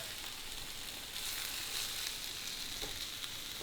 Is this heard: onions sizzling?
yes